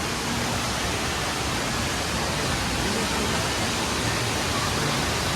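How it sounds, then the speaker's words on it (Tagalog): An indoor waterfall inside Mohegan Sun casino pours with a dense, constant roar of falling water, loud and close, steady throughout, with faint voices barely audible beneath it. "May falls dito sa loob ng casino."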